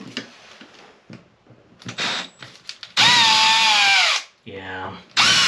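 A power drill drives screws during a toilet repair, with a short burst, then a longer loud whirring run that slows as the screw seats and a final brief spin, alongside scattered clunks and talking.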